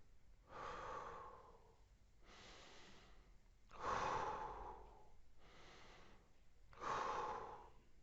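Slow diaphragmatic breaths, drawn in and let out without timing, about three long airy breath sounds a few seconds apart, close and alone with no talking.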